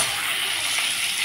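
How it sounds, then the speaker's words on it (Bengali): Marinated eggs fry in a pan with an even, close sizzle that holds steady through the short moment. "ডিমগুলোকে আমি হালকা করে ভেজে নেব।"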